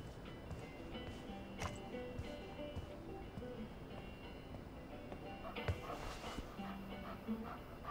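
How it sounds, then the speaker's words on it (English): A puppy whimpers and yips softly in the video game Life Is Strange 2, with short, thin cries scattered across a steady outdoor game ambience. "It's a puppy."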